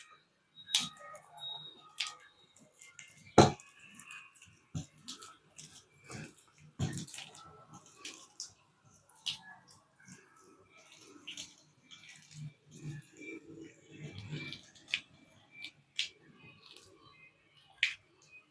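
Close and quiet, a hand mashes rice-flour dough with water for butter mini thattai. Sparse wet squelches, soft slaps and small clicks come at irregular intervals with pauses between.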